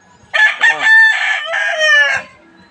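A gamecock of Eskulin bloodline, crossed with Gilmore stock, crows once loudly and close by, a full multi-part cock-a-doodle-doo lasting about two seconds with no talk over it.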